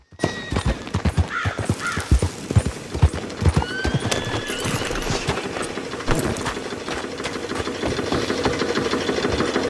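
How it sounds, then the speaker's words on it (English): Steady hoof clip-clop of a Tobiano American Paint horse walking on hard ground in Rhodes in Red Dead Redemption 2, with a brief whinny and faint ambient background layered underneath. "Here's Arthur at Rhodes with a Tobiano American paint"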